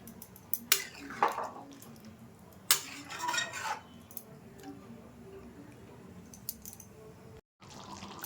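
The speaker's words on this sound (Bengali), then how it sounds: "আর একটু জল দিয়ে দিচ্ছি।" Water is poured into a pot of simmering potato and pea curry in two brief splashing bursts, with light clinks of a metal utensil against the pot and a quiet kitchen background.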